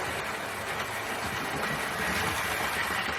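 A Hornby LMS model locomotive with its motor in the engine running along the track, a continuous close rumbling whir with faint rhythmic clicking that swells slightly toward the end.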